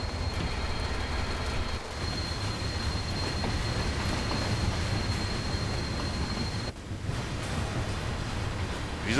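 Train Sim World 2 on the Ruhr-Sieg Nord line: a freight train rolls and brakes, giving a steady rumbling rail noise with a faint high tone and no voices.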